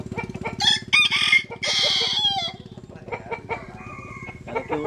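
Japanese Cuban bantam rooster crowing close by, one drawn-out crow with a rising opening and a long held note, over a constant low hum, followed by softer clucks and fainter bird calls.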